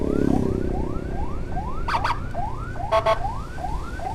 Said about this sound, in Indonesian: Kenceng juga ya guys ini sirenenya